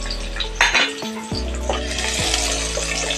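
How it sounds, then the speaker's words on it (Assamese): Ginger pieces fry in a pan for a paneer dish, a soft sizzle under loud clinks and scrapes of a metal utensil against the pan, with a low steady hum in the background. "অলপ ভাজি লওঁ।"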